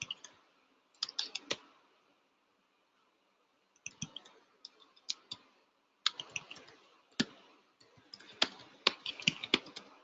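Computer keyboard typing comes in short bursts of quick clicks separated by quiet pauses, faint and close, with no talking.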